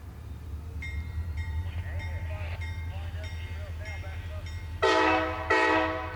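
CI&W freight train Z505 of the Central Indiana & Western short line rumbles steadily as it gets moving, a low continuous rail drone with tonal squeals, then two loud bursts of a horn or air release near the end.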